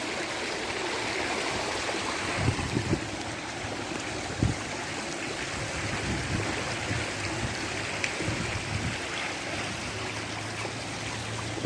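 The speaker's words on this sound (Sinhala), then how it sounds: "ගොඩක් දුරට යනකම් වතුර පාර තියෙනවා" Floodwater runs steadily across a road in Kohila, Sri Lanka during extreme weather, a continuous broad rushing wash that holds an even level throughout, with a few faint low knocks.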